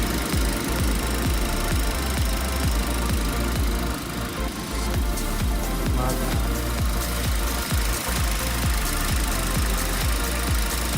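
A Ford Fusion 2.3 engine swapped into a Mazda 3, idling smoothly with a steady, loud rhythmic thrum and regular low pulses, heard close up and unbroken.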